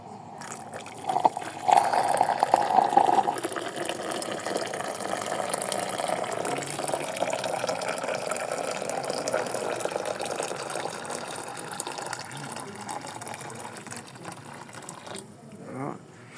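Coffee maker running water through after citric acid descaling, a continuous gurgling, hissing flow of liquid that holds steady for about fifteen seconds, close and moderately loud, then stops.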